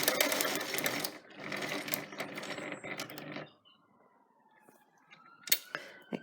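Rapid stitching bursts from a sewing machine running through fabric for a few seconds, then stopping, followed by faint handling clicks and small movements of the fabric being turned.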